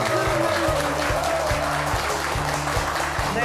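Audience applause for a guest arriving at a televised regional MBC broadcast event, dense and loud clapping that fills the whole moment, with rhythmic music playing underneath.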